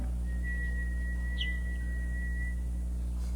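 A person whistles one long, steady, high note for a couple of seconds, clear and close, over a constant low electrical hum in a quiet room with no talking.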